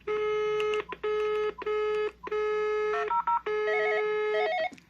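Telephone ringing on a cordless extension of an Intelbras Impacta 68i PBX: a loud electronic ring in repeated bursts of about half a second with short gaps, later changing to a warbling melodic pattern, with no talk.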